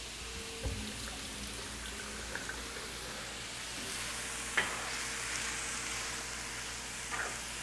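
Ground meat browns in a hot pan, a steady low sizzle running throughout, with a couple of soft scrapes and taps from the stirring utensil near the middle and end.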